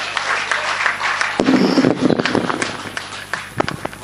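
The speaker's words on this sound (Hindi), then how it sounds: "तालियों के साथ उनका स्वागत करें।" Audience applause welcoming a poet to the stage at a mushaira in Kannauj, a dense clapping wash from a crowd that swells midway and continues with sharp individual claps, loud and close throughout.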